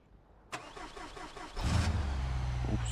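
A car engine in the video game BeamNG.drive cranks with a rapid starter whir, then catches and roars into a loud, steady idle.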